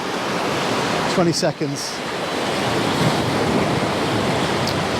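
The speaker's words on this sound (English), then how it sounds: "the wind's blowing this way and there's spray throwing up" Ocean surf crashes steadily onto coastal rocks as strong wind blows spray about, a loud continuous wash of noise, briefly broken by a short spoken phrase near the start.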